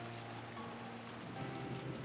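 Steady rain and wind ambience in the Umineko visual novel, a constant broadband wash with a low hum, holding level and swelling slightly near the end, with no voices.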